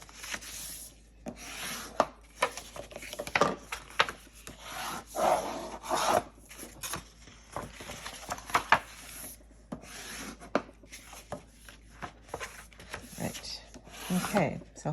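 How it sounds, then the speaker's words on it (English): A bone folder burnishing folded score lines on card, with repeated rubbing, scraping strokes in an irregular rhythm, close and fairly loud, no talking. "we're going to fold them in and burnish them well with a bone folder"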